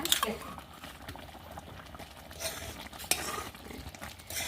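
Ghee goes into thickening jaggery syrup for an Annavaram-style prasad, giving a soft bubbling sizzle with a few spoon scrapes and clinks against the pot at a quiet level.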